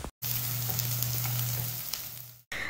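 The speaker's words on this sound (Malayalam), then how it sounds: "അപ്പോൾ അതാ ഞാൻ കുറച്ച് ഉപ്പ് ചേർത്ത് കൊടുത്തിട്ട് സവാള ഒന്ന് വഴറ്റിയെടുക്കുകയാണ്" Onion sautéing with salt in a hot pan gives off a steady, close sizzle that holds throughout, broken by brief silent gaps at the start and end.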